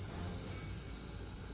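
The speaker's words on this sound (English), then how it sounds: "Major Vikalp takes off in his Cheetah helicopter for an emergency casualty evacuation at a forward post beyond the glacier." Cheetah helicopter taking off on a glacier for an emergency casualty evacuation, a steady, loud engine and rotor roar with a high whine, no voices.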